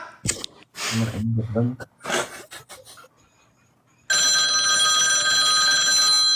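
Voices talk and breathe hurriedly, then a loud telephone starts ringing continuously and keeps on alone.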